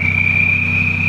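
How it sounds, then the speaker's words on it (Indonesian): Turbocharger on an Isuzu Panther turbo pickup under restoration, emitting a steady, loud, high-pitched whine with a cricket-like chirping edge, continuous over a low engine drone with no pauses. "Nah, udah keras ya lur bunyi jangkriknya."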